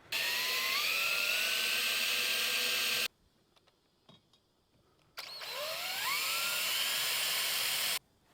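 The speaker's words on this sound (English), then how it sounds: "just going to start off with a small drill bit first of all" Two bursts of a small drill's high whining spin while drilling pilot holes to mount a freestanding 4WD awning, separated by a short quiet pause with faint handling clicks.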